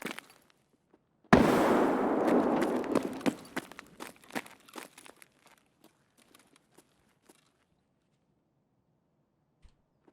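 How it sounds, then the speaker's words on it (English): In the shooter game Escape from Tarkov a grenade bursts with a sudden loud blast, followed by a decaying rumble and scattered crackling debris and footsteps fading into near silence. "I'm going to toss another nade to push them back."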